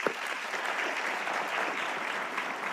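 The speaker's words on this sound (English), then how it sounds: "Please, another round of applause." Audience at a business summit applauding, steady even clapping from a large crowd that holds at a moderate level from start to finish, with no voices over it.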